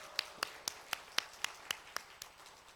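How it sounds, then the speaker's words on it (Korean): A church congregation claps in welcome for a new choir accompanist, about ten evenly spaced sharp claps, fairly quiet and slightly spread out, slowing a little at the end. "여러분 크게 박수 한번 해주세요"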